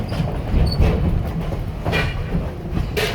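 Riding behind steam locomotive N&W 475 on the Strasburg Railroad, a steady, loud rumble of rolling rail cars with rhythmic clacking and occasional brighter squeaks from the wheels.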